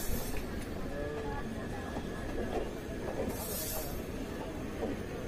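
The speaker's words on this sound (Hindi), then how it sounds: "एक दिशा में दो ट्रेन एक ही साथ प्लेटफॉर्म से खुली है" Two trains pull away from a station platform together, heading the same way, giving a steady rumbling roar with hiss and a brief high squeal partway through, with no clear talk over it.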